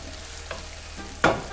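Onions and garlic fry in a pan for South African bobotie, a low sizzle with soft stirring scrapes and a sharper burst of sizzle near the end, close and fairly quiet, no voices.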